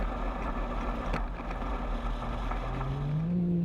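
A distant offshore racing powerboat engine drones at the St George 399 race, a steady low roar that swells and rises in pitch near the end, heard alone without speech.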